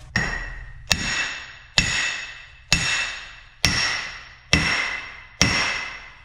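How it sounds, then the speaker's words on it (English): Seven evenly spaced, loud metallic hammer blows ring out one after another as a big beater hammer drives a Dana 60 axle part down during a Super Duty axle swap, each strike decaying with a long ringing tail. "you'll get your big old beater and just start hammering"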